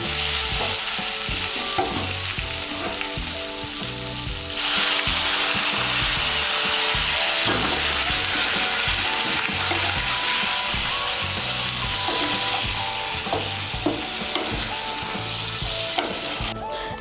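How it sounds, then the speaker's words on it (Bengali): Hot water is poured into soybean masala frying in a pan, bringing a loud, steady sizzle with scraping and stirring that swells partway through and carries on without talk. "আমি এর মধ্যে 1 কাপ গরম জল দিচ্ছি"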